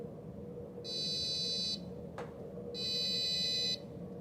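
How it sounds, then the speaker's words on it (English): Two electronic beeps from a SwitchBot smart door lock, each about a second long and spaced apart, with a faint click between them over quiet room noise. "It can make a little audible beep"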